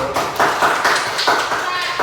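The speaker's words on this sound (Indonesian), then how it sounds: "Oke, kita beri tepuk tangan dulu." Schoolchildren in a classroom clap their hands together in a patterned group clap, loud and close, with voices talking over the rhythm.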